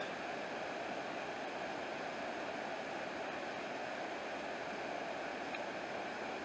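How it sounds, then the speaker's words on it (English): Steady, broad rushing of water from Anna Ruby Falls near Helen, Georgia, seen through trees, a constant mid-distance roar with no voices. "See the falls right there through the trees."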